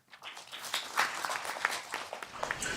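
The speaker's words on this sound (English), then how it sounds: "Please express our gratitude with a big applause." Audience at an international development conference gives a round of applause, a dense, even patter of many hands clapping that swells quickly and holds steady for a few seconds.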